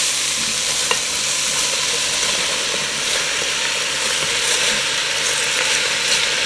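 Shredded cabbage goes into a pot of ham and cabbage soup and is stirred, giving a steady, close wash of scraping and sizzling with faint knocks, no voices.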